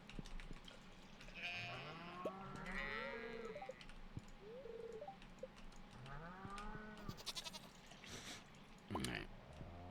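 Cows and goats in a barn in the farming video game Stardew Valley, with several bleats and moos rising and falling one after another over a steady background hum.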